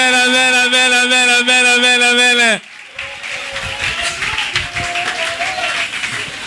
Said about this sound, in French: on acclame encore l'Éternel Dieu